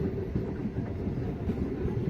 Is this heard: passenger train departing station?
yes